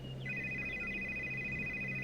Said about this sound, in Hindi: कोकिला अपने खानदानी पंडित जी को फोन लगाती है।